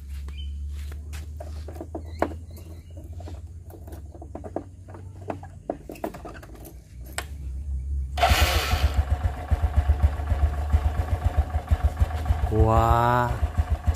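A motorcycle engine that lost compression from oil mixed with water, started after repair: faint ticking and scuffs give way to a cranking start and a loud, close, pulsing idle with brief revving near the end.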